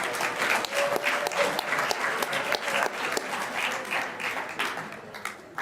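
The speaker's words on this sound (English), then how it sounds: "I'd like to give a round of applause for Janelle for emceeing tonight." A crowd at a hall of fame ceremony applauds steadily, a dense wash of many hands clapping at once, sustained for several seconds and tapering slightly at the end.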